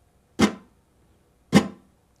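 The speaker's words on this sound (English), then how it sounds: "we do this little muted strum" Two short, dull muted guitar strums, about a second apart, each a quick percussive chop that dies away fast.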